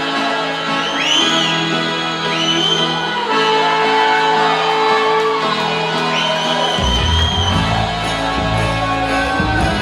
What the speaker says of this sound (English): A big round of applause for our groom and his mom.